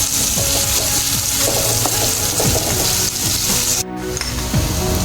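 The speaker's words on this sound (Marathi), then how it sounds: "बारीक चिरलेला कांदा, कांदा व्यवस्थित परतून घ्यायचा आहे" Steady crackling sizzle of onion sautéing in a hot pan, with occasional scraping stirs; no talking, close and fairly loud throughout.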